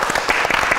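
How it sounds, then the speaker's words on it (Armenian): A theatre audience at a live evening show claps in a brief, dense burst of applause, close and fairly loud, with no voices. "ձեր ծափահարությունները"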